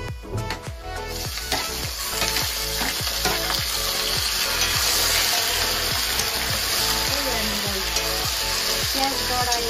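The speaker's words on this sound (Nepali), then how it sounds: "फ्राई गर्दैछु है" Onions for chicken soup sizzle and crackle steadily in a hot pan, with a rhythmic scraping of a utensil stirring them, close and continuous.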